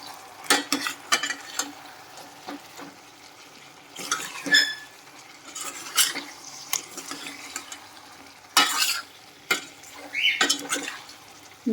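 A pumpkin dish with chili powder is stirred and mixed in a pot after frying, with irregular close scrapes and soft wet clatters coming in short bursts, separated by quiet pauses.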